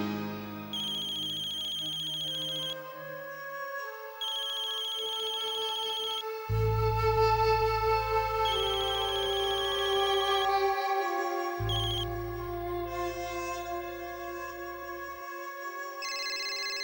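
A telephone ringtone plays alone, an electronic melody of sustained tones with a deeper buzzing pulse joining partway, repeating clearly and steadily for the whole stretch.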